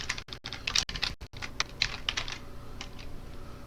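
Keys clack on a computer keyboard as a command is entered, a quick close run of sharp taps that slows into a few lighter, sparser strokes, with no talking.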